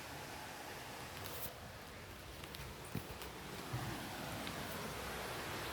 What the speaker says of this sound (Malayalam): ഇതാണ് വെള്ളച്ചാട്ടം